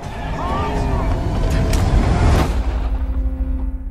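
A car engine idles loudly close by at a traffic stop while a voice talks over it, and the rumble settles and thins toward the end.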